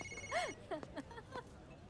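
A phone ringtone trills in short rising and falling electronic chirps, faint and slightly distant, repeating a few times in a quiet room.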